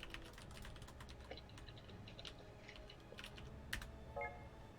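Quiet, close-up typing on a computer keyboard: a steady, irregular patter of light key clicks with a few sharper taps, and no voices.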